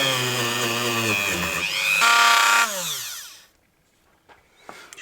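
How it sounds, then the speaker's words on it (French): A Dremel fitted with a wire brush strips gold paint from a Honda CB500 brake, giving a loud high whine that rises in pitch and then spins down to silence, followed by a few faint knocks. "Je suis en train de décaper la peinture dorée"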